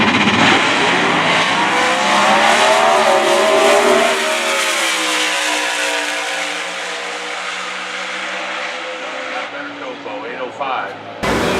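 A red Camaro drag racing car roars loudly through a sustained high-revving run, the engine pitch sweeping as it accelerates before cutting off abruptly near the end.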